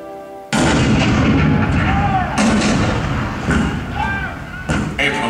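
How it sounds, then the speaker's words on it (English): Cannon fire recreates the 1861 bombardment of Fort Sumter: a sudden, loud booming blast with a rolling rumble, then further heavy reports a couple of seconds apart, with faint voices among them. "The cannon spoke for war, bitter, violent, and devastating."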